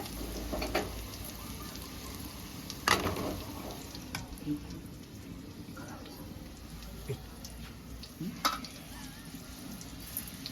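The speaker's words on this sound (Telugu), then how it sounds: "రైస్ బాగా ఫ్రై అయింది ఇది తీసుకుపోయి రైస్లో కలుపుదాం" Fried jeera rice stirred and mixed in a pan, quiet sizzling with occasional scraping strokes of a spoon at low volume.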